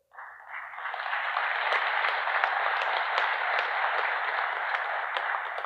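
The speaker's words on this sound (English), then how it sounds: "We're cheering" Audience cheering and applause at a gathering celebrating a 12-year-old's gun-handling feat, a steady broad roar that rises quickly after a brief start and holds loud and dense throughout, with no voice standing apart.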